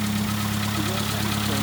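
A 6-volt engine runs steadily during a jump start at a campsite, a continuous low idling hum with faint knocking and vibration, close and fairly loud throughout.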